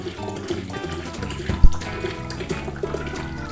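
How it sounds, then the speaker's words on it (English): A whole bottle of sparkling cider glugs and splashes into a pitcher of mason jar sangria, a close, gurgling pour with a sharp knock partway through. "we are now going to put this whole bottle of sparkling cider"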